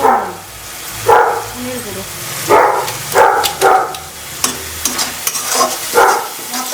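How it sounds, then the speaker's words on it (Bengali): Cumin, ginger and green chilli paste with turmeric sizzles in a pan and is stirred in repeated bursts of scraping, close and fairly loud, with a short pause between strokes. "দিয়ে এবার ভালো করে মশলাটাকে কষিয়ে নেবো"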